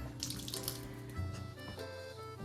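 Tap water runs steadily into a kitchen sink as hands are washed during a cooking session, a continuous close splashing rush lasting the whole stretch with no talk over it.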